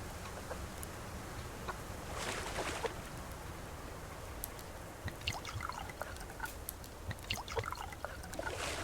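Water trickles and pours steadily while a container is being filled in a survival game, a close, continuous splashing stream with scattered drips and small ticks and no talking.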